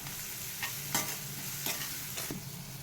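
Green chillies frying in a pan for a potato fry, a soft steady sizzle broken by a few sharp scraping stirs of a spatula, quiet and close with no talking.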